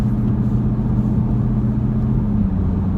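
A 2013 Jeep Grand Cherokee with a Corsa performance exhaust accelerating, heard from inside the cabin as a loud, steady low droning rumble with a deep exhaust note and no speech.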